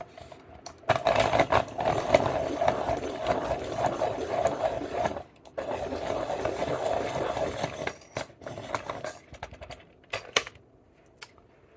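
Dahle 133 manual pencil sharpener cranked on a Ticonderoga pencil, two bursts of rapid rhythmic grinding and whirring a few seconds each, close by, followed by a few light clicks and taps.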